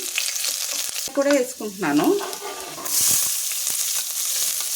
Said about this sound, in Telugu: మన ఆయిల్ అయితే వేడెక్కిందండి. ఫస్ట్ కొద్దిగా జీలకర్ర వేసుకుంటున్నాను.